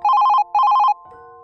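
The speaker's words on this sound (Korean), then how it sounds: "사내의 외투 주머니 안에 있는 휴대폰이 울렸다." A mobile phone rings as a sound effect in a Korean horror audio story: two loud, close bursts of a trilling electronic ring, then a short steady tone as it cuts off, with no voices.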